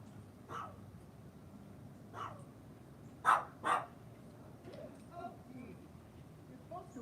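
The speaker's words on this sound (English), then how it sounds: "So they're at the door barking at the people who are just chatting." Dogs at a doorway bark at people chatting outside, a handful of sharp barks spaced irregularly, two louder ones in quick succession mid-way, with a somewhat distant, roomy quality and low background noise.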